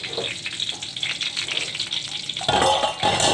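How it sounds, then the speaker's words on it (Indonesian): Small pieces of potato dropped into about two tablespoons of hot oil in a wok as the base for a sweet-and-sour chicken bone soup, with steady close sizzling and frying hiss and a brief louder stir or clatter near the end. "Sebelumnya kentangnya kita masukin dulu ya, ini kecil dulu."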